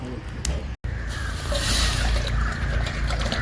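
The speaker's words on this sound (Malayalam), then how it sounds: "അപ്പോൾ ചെമ്പിലേക്ക് വെള്ളം ഒഴിച്ചിട്ടുണ്ട് കേട്ടോ." Water poured into a copper cooking pot set up for boiling rice for Hyderabadi chicken biryani, a steady close splashing wash that runs throughout with one brief dropout near the start.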